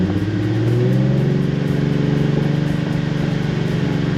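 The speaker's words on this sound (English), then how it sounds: "You know, you rev up the car." Car engine revving close by in a steady, loud drone with rising and falling harmonic tones, no voices over it.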